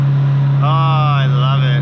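A turbocharged car running on E85 accelerates up a hill, a steady loud engine drone from inside the cabin with rising whistling turbo tones partway through.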